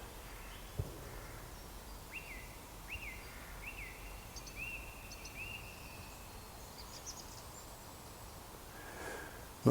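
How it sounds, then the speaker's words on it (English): A single bird outdoors repeats short whistled chirps in a loose series against quiet ambient background noise. The song is faint and somewhat distant, and no one speaks. "Hope you can hear that bird song."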